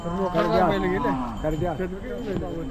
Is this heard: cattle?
yes